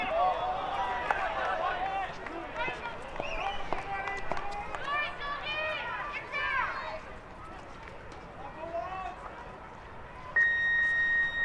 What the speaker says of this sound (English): And the final buzzer does sound.